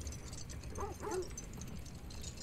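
A dog in God of War Ragnarok gives a couple of short, faint barks or yips in quick succession against a steady low background hum.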